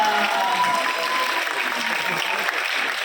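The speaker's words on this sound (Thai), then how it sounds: "ปรบมือให้ในที่ปราหน่อยได้ไหมฮะ" Sustained applause from a crowd at a Thai entertainment event honoring an actress turned singer, a dense steady wash of clapping throughout with a few voices faintly under it.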